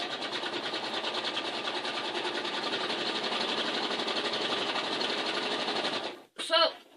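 A sewing machine runs steadily for about six seconds, stitching quilt-as-you-go pieces with a fast, even mechanical whir up close, then stops abruptly, followed by a brief clatter.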